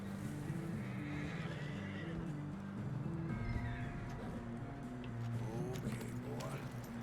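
A horse in the video game Red Dead Redemption whinnies over steady game ambience and distant hoofbeats, the neighs rising and falling across the clip, with low game sounds continuing underneath.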